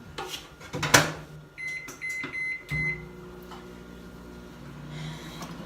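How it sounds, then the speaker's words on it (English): A microwave oven door clunks shut, a few beeps sound as buttons are pressed, then the microwave hums steadily on its own while heating tortillas. "I throw them in the microwave for up to probably a minute"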